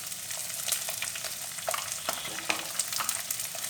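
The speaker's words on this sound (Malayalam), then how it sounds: "ഈ സവാള, പച്ചമുളക്, അതേപോലെ തന്നെ ഉള്ളി ഇതൊക്കെ ചേർത്ത് നമുക്കൊന്ന് വഴറ്റിയെടുക്കണം" Onion, shallots and green chili sauté in a pan for a Kerala stingray curry, a steady close sizzle and crackle with occasional scraping taps from stirring.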